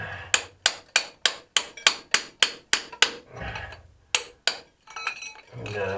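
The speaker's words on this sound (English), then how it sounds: "And then we're just going to start chipping away, folks. That's hard rock mining for you." A hand tool chips at hard rock in an abandoned lode gold mine, a rapid run of about ten sharp, evenly spaced metallic strikes, then a pause with shuffling and a few more irregular blows, close and loud.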